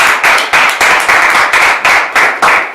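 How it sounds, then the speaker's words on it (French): An audience at a French-language religious discussion gathering claps in loud, rhythmic bursts, roughly two beats per second, steady throughout and close up. "Applaudissons."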